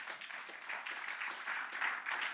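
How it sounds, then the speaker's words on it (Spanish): Steady applause from a church congregation, moderately distant, clapping continuously without pause. "Otro aplauso fuerte al Señor."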